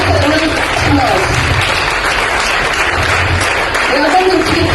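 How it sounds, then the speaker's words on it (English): Audience applause at an International Women's Day event, a steady broadband wash of clapping that fills the whole stretch at high level, with faint voices mixed in underneath. "So give yourself a great applause."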